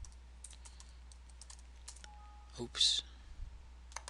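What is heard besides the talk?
typing code on a computer keyboard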